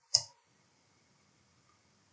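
A single crisp click of an Enter key pressed on a computer keyboard, close and isolated, followed by near silence.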